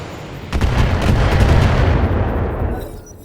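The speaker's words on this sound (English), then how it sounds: "And here the turrets get to fire back." Defensive turrets in the BattleTech video game open fire, a loud burst of heavy booming gunfire lasting about two and a half seconds before fading, with no voices over it.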